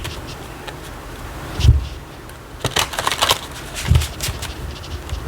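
A Pastoral Tarot deck is shuffled by hand without riffling, giving soft papery rustles and a few sharper card slaps in short bursts. It sounds close and fairly quiet, with no one speaking.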